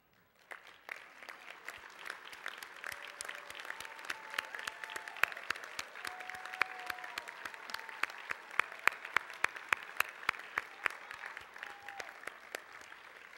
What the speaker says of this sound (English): If you're a Hall of Famer, please go ahead and stand for a round of applause.